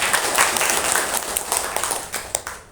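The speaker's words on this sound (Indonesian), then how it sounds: "tepuk tangan untuk jenengan semua" Dense, continuous clapping from an audience at an Indonesian Nasyiatul Aisyiyah talk, fairly steady and close, tapering off toward the end.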